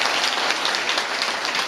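A church congregation claps during a sermon, dense continuous applause close and loud throughout.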